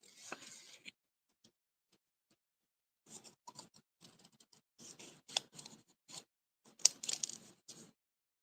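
Scissors snip the white trim and stem off a small paper flower for an heirloom arrangement, giving a few crisp cuts at the start, then a pause, then quick clusters of close, dry snips and rustles.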